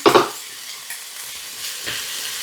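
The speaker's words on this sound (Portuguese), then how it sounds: "Deixar assim fritando mais ou menos por 1 minuto e meio em fogo médio" Meat and carrot sizzling and frying in a pan over medium heat, a steady hiss with a few stirring scrapes near the start, close and fairly quiet.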